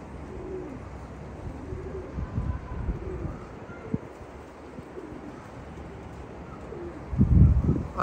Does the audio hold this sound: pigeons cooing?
yes